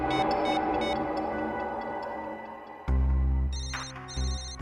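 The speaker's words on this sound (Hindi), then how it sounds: "रिंग यहीं पर बज रही है कहीं" A phone rings with a repeating electronic ringtone in bursts, preceded by a sustained tonal musical bed, with a louder low ringing segment toward the end, all without talk.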